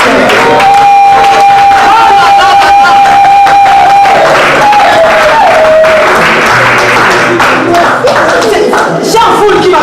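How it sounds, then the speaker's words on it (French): A dense crowd arriving at a funeral procession cheers and claps, a loud, continuous wall of voices and applause with shouts rising throughout, under sustained whistling or singing tones. "On regarde la foule qui arrive, oh là là."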